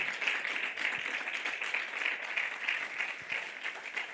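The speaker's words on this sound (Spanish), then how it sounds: "Démosle un aplauso a Cristo, hermano." A church congregation claps together in a continuous, moderately distant round of applause, steady and fairly soft, with no voices rising above it.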